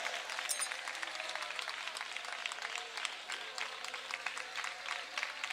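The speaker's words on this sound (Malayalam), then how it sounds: "മക്കളെ കൈയടിച്ചോ ശക്തിയോടെ." A church congregation at an outdoor ground claps hands vigorously, a dense, continuous roll of applause sustained throughout at moderate distance.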